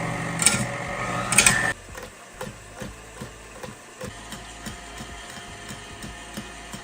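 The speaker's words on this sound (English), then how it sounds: "And then I am going to start whisking it." Four cups of heavy cream are whisked for homemade butter, a busy mechanical whirr that begins loud and dense, then drops to a softer run of quick repeated clicks and taps for the rest.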